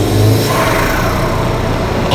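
A Subaru WRX engine, recorded from inside the engine bay, roars loud and close with strong induction noise and turbo whoosh, holding a steady rev for about two seconds.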